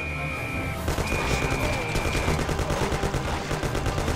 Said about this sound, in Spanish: ahora es cuando me tengo que ir a tiros con ellos